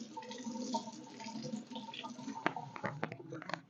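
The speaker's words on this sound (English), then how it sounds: "let me wash off my knife" A knife is rinsed under running tap water at a kitchen sink while cooking roasted cauliflower, with soft splashing and clinks close by.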